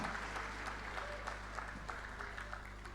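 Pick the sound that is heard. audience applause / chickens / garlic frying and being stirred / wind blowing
audience applause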